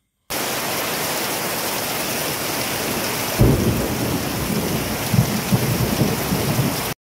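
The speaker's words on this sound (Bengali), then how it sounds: "এরই মধ্যে ঝমঝমিয়ে বৃষ্টি নেমে পড়লে একটু সাউন্ডটা শুনবে তোমরা" Heavy pouring rain drumming steadily around a house, a dense loud roar joined midway by a deep rumble of thunder, with low thumps continuing afterward.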